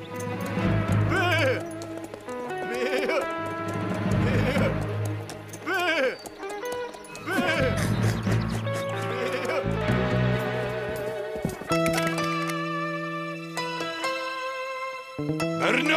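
Sheep bleating in a French Lucky Luke western cartoon, a run of repeated wavering bleats at close range over a busy soundtrack, followed by a stretch of plucked music.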